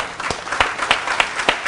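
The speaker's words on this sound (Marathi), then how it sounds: "एकदा जोरदार टाळ्या त्यांच्यासाठी" A live audience at a modak cooking competition in Nashik bursts into applause, dense clapping with distinct claps punching through, loud and close for a couple of seconds.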